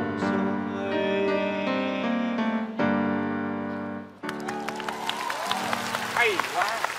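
Audience claps break out in a Vietnamese comedy sketch as a sung song with backing music ends, a scattered burst of applause mixed with voices talking.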